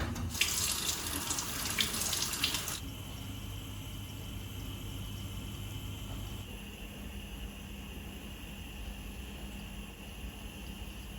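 Cold water gushes loudly from a tap over salmon being washed for a few seconds, then shuts off, leaving only a faint background hum.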